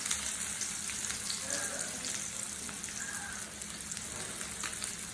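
Chopped onion sizzling in oil in a kadai, reused fish-frying oil, a steady crackling hiss at moderate level with occasional faint clinks, for a Bengali taro curry.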